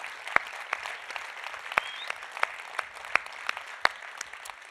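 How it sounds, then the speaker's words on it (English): Audience at a hemp building summit panel gives a light, fairly faint round of applause with scattered sharp individual claps standing out. "Let's give Hemp Magazine a round of applause."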